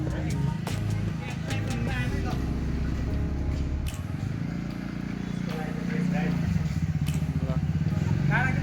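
A TVS scooter ridden for the first time, its engine giving a steady low hum throughout, with road noise and a few sharp clicks over it.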